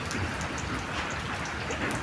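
Heavy rain pours down in a dense, continuous wash of patter and splashing, steady and fairly loud throughout with no voices.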